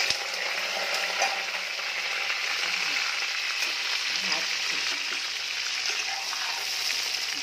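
Potatoes frying in hot fish oil, a dense, even, close sizzle that runs unbroken and fairly loud throughout, with no talk over it.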